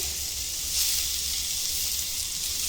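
Onion, tomato and green chili sizzle steadily in a hot pan, a continuous bright frying hiss with no talk, fairly close and even throughout.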